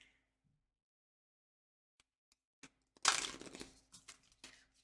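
Tarot cards being shuffled by hand in a quiet room, a faint scattering of small taps followed by a short burst of papery riffling and flicks that trail off into softer clicks.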